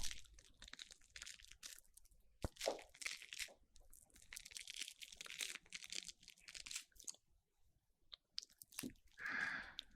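Close, crisp crunching and chewing of crunchy food, with irregular bites and rustling over several seconds, then a pause and a final burst.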